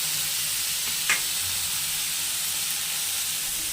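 Onions fry hard in hot oil for mutton biryani, giving a loud, steady sizzle and hiss close by with one brief stir midway.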